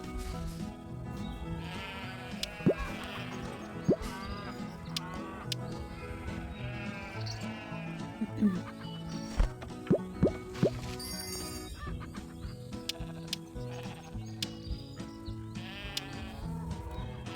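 Repeated goat bleats from a game, several calls layered over background music with occasional plopping effects, moderately loud and continuous.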